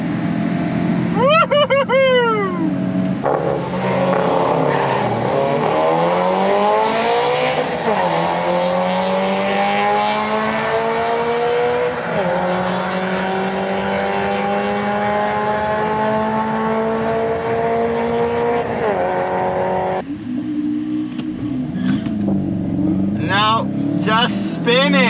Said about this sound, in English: Traction control doesn't really do much, still spinning like crazy.